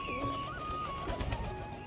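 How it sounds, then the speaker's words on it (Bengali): Pigeons cooing at a feeding spot, a few soft, low warbling calls heard close but faint over a quiet background, lasting under two seconds. "দেখি পায়রাগুলো"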